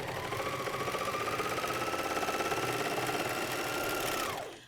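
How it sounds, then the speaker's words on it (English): A MyLock 454D serger stitches shoulder seams on a pajama top, a steady fast rhythmic whir running loud and close before winding down at the end. "now I'm going to take them and just sew them at the 5/8 inch seam allowance as well"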